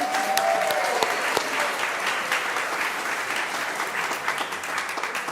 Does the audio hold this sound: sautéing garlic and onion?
no